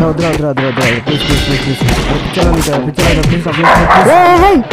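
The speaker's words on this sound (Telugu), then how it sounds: "కుక్క అరిసిందిరా నన్ను" A dog barks near the end, short sharp yelps over loud, overlapping voices and shouting.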